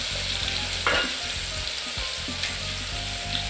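Pieces of broiler chicken meat fry in hot oil in a wok, giving a loud, continuous crackling sizzle with occasional soft stirring knocks throughout.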